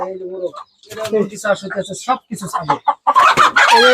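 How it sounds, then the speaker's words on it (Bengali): Chickens and a large rooster on a home farm give close clucks and throaty calls, with a person talking over and between them. "মুরগির সব এই যে মোরগ আছে এটা হচ্ছে যে বড় একটা মোরগ হয়েছে"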